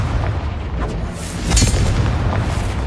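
A Confringo blasting spell explodes in the Hogwarts Legacy video game: one deep, booming burst swells up about halfway through, over a steady low rumble of game ambience.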